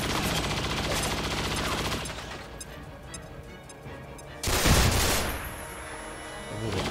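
A grenade explosion and gunfire in the video game XCOM 2: steady crackling gunfire gives way to a loud, close blast with a rumbling tail, then the battle noise goes on. No talk.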